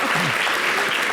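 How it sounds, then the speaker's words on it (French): Brief burst of audience applause on a French-language television show with students, busy crowd clapping filling the clip, with a voice faintly audible underneath. "on applaudit pour tous ceux qui ont dit top"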